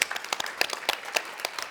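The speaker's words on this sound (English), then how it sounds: "Big round of applause." Audience applause at a late-evening charity food event, a dense spread of many hands clapping in a steady patter that rises and falls in rapid, uneven bursts, fairly close and with no voices over it.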